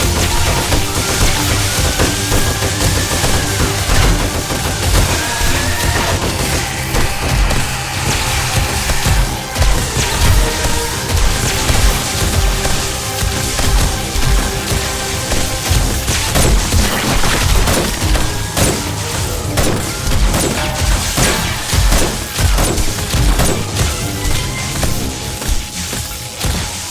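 Dense, sustained gunfire from a weapon in the video game 7 Days to Die, loud and near, with rapid shots, booms and crashing impacts packed together throughout the stretch.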